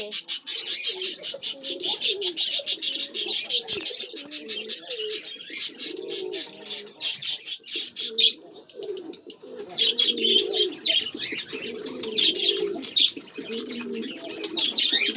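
A pair of pigeons in a new loft coo steadily and close by, their low rolling calls repeating over a dense, continuous chatter of smaller birds chirping throughout.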